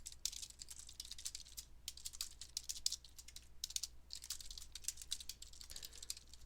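Rapid, uneven keystrokes clatter on a computer keyboard while Python code is typed, bursts of clicks broken by short pauses, close and alone.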